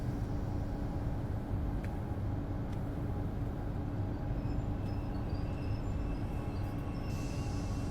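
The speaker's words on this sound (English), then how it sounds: "Let's see if we can get our train running again." A Talent 2 electric multiple unit pulls away on an incline in Train Sim World 6 near Leipzig, giving a steady low rumble and motor drone with faint higher whines and clicks throughout, no talking.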